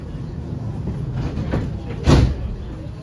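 A Blackpool tram runs with a steady low rumble heard from on board, broken by one louder clunk partway through.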